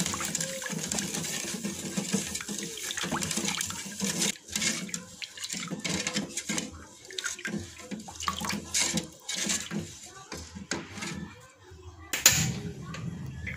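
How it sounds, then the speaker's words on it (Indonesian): Water pours into a cooking pot of dry ingredients, a continuous splashing flow with uneven bursts, fairly close, ending in a sharper splash near the end. "lalu tambahkan air sebanyak 900 ml"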